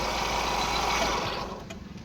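A 2011 Hyundai Santro Xing petrol engine idling, a smooth, quiet, even hum heard close up that eases slightly toward the end, with no talking.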